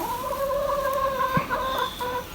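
A chicken clucking close by after being called, a run of short tonal clucks and a drawn-out vocal call, alone with no talking.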